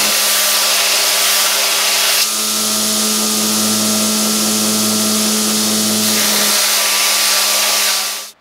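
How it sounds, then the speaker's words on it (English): Grinder shaping a sword pommel for a forged Viking sword: loud, steady high whine with harsh grinding, the tone dropping as metal is pressed in, then spinning down at the end. "the next step is just to hit the grinder and shape out a pommel"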